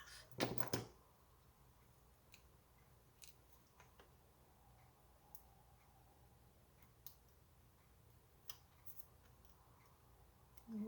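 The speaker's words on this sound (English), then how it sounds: "I'm gonna cut these ones in half." Paper cutting with scissors while making a Stampin' Up card: one loud snipping burst at the start, then faint sparse clicks and ticks over a quiet room.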